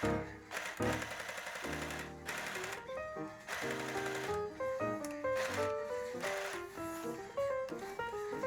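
Sewing machine stitching a costume garment, giving a busy mechanical clatter in several runs that start and stop, with background music throughout.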